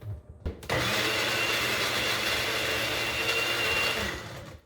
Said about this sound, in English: what I really like about this new blender is